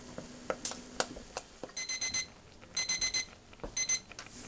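A kitchen timer goes off after ten minutes of boiling cranberries, sounding three bursts of rapid, high electronic beeps that ring clearly through a quiet kitchen with a few faint clatters between them.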